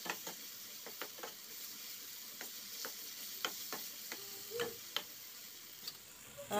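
Spices frying in oil in a pan for a singhi fish curry, stirred with a spoon: soft steady sizzle punctuated by sharp, irregular clicks and scrapes of the utensil against the pan, close and fairly quiet.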